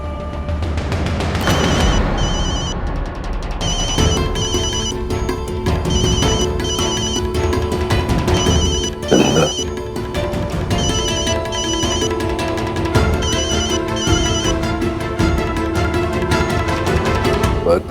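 A telephone rings steadily with a repeating electronic tone in regular bursts, loud and close, over a dramatic music bed with an occasional boom; no one speaks.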